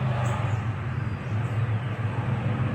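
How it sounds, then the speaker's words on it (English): Hot rod cars cruising a town's main drag during a hot rod show make a steady, continuous traffic rumble with a deep low drone, heard at a moderate distance and without talk. "Sorry for the traffic noise."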